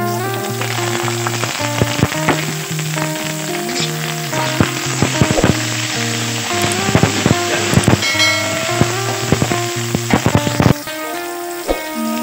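Shallots sizzle steadily in a hot pan for an Acehnese anchovy dish, then ingredients drop in with scraping stirs and clinks over a loud, continuous fry.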